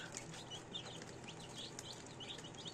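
Brahma chicks peep in a busy cluster, many high thin calls overlapping steadily throughout among a larger brood of big chicks, with a low background murmur and no voices.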